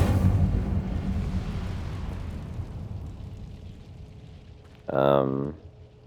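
Incendio fire spell from Hogwarts Legacy, a roaring burst of flame that fades steadily over several seconds, then a short, bright tonal magical flare near the end.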